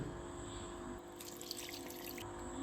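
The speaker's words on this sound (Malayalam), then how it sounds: "അതിലേക്ക് കുറച്ച് വെള്ളം നമ്മൾ ആഡ് ചെയ്യുവാണ് കേട്ടോ" Water trickles and splashes steadily into a cooking pot for a couple of seconds, close by, over a low background hum.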